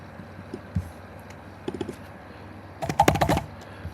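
Typing on a computer keyboard: a few scattered key taps, then a quick burst of rapid clicks near the end, close and fairly quiet, with no talking.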